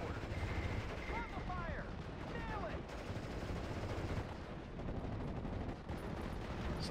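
Gunfire from the World War II strategy game Steel Division: Normandy 44 during a D-Day mission, including machine-gun fire, forms a dense, continuous battle din of shots and blasts throughout, with whistling effects early on.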